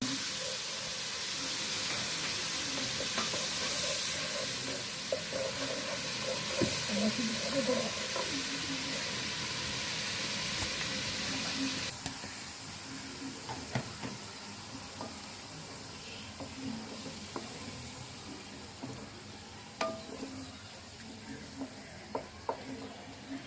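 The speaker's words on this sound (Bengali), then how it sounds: "লবণ দিয়ে মশলাটাকে এখন একটু ভালো মতো কষায় নিচ্ছি।" Spice paste with salt sizzles and hisses steadily in a pan while being stirred, making an ilish and brinjal curry, with scattered clicks of the spatula against the pan, the frying softening partway through.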